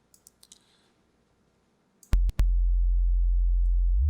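Clicks give way near the midpoint to a steady, loud synthesizer sine tone, sustained alone after a brief break until the end.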